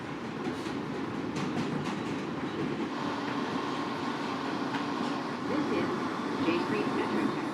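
A subway train runs along its tracks, a steady, loud rumble with rattling wheels that holds throughout and swells slightly near the end.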